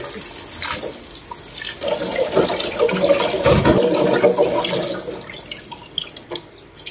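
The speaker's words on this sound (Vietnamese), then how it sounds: "Mình rửa 4 nước cả nhà." Soaked vegetables being rinsed in a basin of water, with splashing, sloshing and running water that builds through the middle and trails into scattered drips and light splashes, close by.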